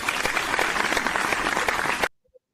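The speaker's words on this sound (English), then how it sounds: "The crowd is going wild at training camp." A crowd at a football training camp cheers and applauds in a dense, loud, sustained roar that cuts off abruptly to near silence.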